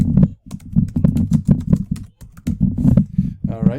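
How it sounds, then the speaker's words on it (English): Someone types on a computer keyboard in quick irregular bursts of close, crisp keystrokes, with a short pause midway and a faint voice in the background near the end. "we want to type in account manager number"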